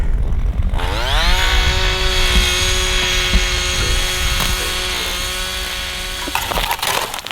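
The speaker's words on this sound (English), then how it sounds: "drilling the holes" Gas-powered ice auger drilling holes through frozen lake ice for fishing, a loud steady two-stroke engine whine that revs up after a brief quiet start and holds strong, then cuts off near the end.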